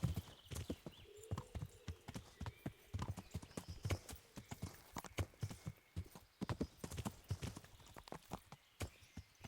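Hooves of a horse clip-clop in a video game, Hardcore Henry, a steady clattering walk of sharp knocks close by, with a brief whinny partway through.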